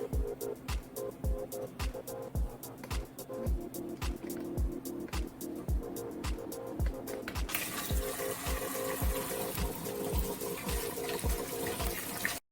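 Ginger root being rinsed under a running kitchen tap, with a steady stream of water splashing into the sink and a regular series of sharp taps and clunks. The water grows louder and brighter partway through.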